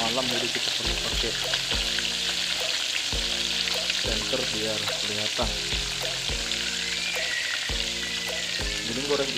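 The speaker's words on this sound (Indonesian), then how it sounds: "jadi pakai minyak yang banyak untuk bisa menggoreng 1 ekor ikan sekaligus" A whole fish frying in plenty of hot oil, a loud, dense and continuous crackling sizzle up close, with faint background tones underneath and a brief spoken phrase.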